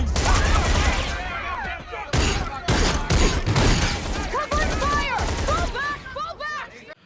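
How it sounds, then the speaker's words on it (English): Rapid bursts of gunfire from a firefight in a TV show crackle in dense volleys, loud and close, with brief pauses between rounds and sharp ricochet-like whines mixed in. "Dude, we got a full-on firefight out here."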